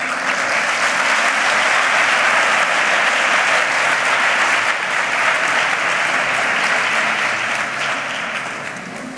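An audience claps loudly and continuously during the proclamation speech at the Ronda Carnival, a dense, steady wall of applause that holds strong and then begins to fade near the end.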